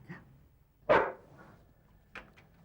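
A trained sniffer dog at a car search barks once sharply, followed by a couple of softer yips, fairly close over a quiet background.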